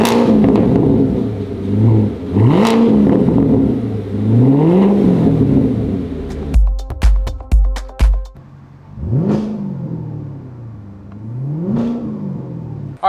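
A Corvette V8 with its muffler deleted revs repeatedly, loud rising and falling roars with sharp crackling pops in the middle, close and alone.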